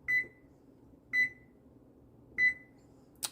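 Kitchen timer set while making fish broth with mussel shells, beeping three times at a steady, evenly spaced pace, crisp and close, with a short click at the end and faint room hum underneath.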